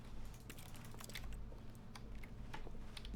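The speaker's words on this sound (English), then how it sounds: "anything that you click on will just make a keyboard clicking noise" Objects clicked in The Stanley Parable make keyboard-clicking sounds, quiet scattered taps in an irregular rhythm over a low background hum.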